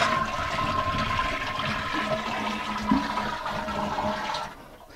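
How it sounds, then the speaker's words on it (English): A household toilet is flushed, and water rushes loudly and steadily through the bowl and tank for several seconds before the noise drops away near the end. "Flush the toilet."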